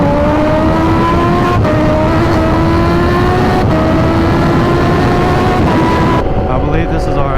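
A Kawasaki Ninja H2 motorcycle cruising on a highway, its engine droning steadily and loudly at high speed with wind rush, the pitch rising slowly with a few brief shifts, a voice talking over it.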